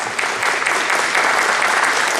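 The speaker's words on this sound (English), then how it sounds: "Give him a round of applause, everybody" An audience at a breakfast meeting claps for a judge walking up to speak, a loud, close, continuous wash of many hands filling the whole moment.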